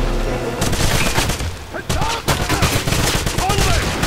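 Gunfire in the Wolfenstein video game, dense bursts of rapid shots and impacts, loud and close, with game sounds and a player's voice mixed in.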